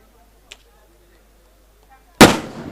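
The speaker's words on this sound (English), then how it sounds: "there goes the fireworks" After near silence and a faint tick, a single loud firework blast bursts out at a football tournament prize ceremony and rings off into a crackling decay.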